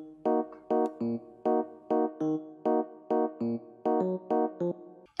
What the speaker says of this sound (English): And then we got Purity, which I have on piano at Vintage EP number 2.